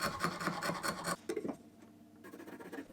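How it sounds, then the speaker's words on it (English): A sharp chisel pares beech or mahogany end grain in quick rasping strokes for about a second, then a few lighter scrapes and a quieter woodshop background. "I used my chisel to pare away some of the end grain"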